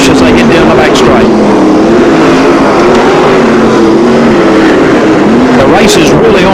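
Speedway race cars roar down the back straight at Archerfield Speedway in 1996, engines droning loudly and steadily with shifting pitch as they pass, under continuous race commentary.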